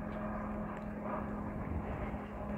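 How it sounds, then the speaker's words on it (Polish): An airplane flies over a summer allotment garden, giving a continuous, steady droning engine hum with a low tonal whine, fairly loud and unbroken. "samolot leci"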